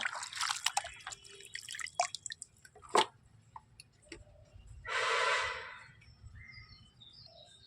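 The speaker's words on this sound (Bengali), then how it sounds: "দেখুন পালং শাকটা ভালো করে আমি ধুয়ে নিচ্ছি।" Spinach is rinsed in water in a home kitchen, giving soft drips and small splashes with one longer swishing wash of water partway through. The sounds are faint and close, with no talking.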